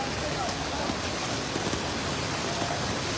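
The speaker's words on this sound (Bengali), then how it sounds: "বৃষ্টির কারণে ক্যামেরার লেন্সে পানি পড়ার কারণে অনেক সময় ক্লিয়ার হয় না" Heavy rain pours down on a flooded airport road in Sylhet, a dense, continuous close hiss that covers everything throughout, with no break or change in intensity.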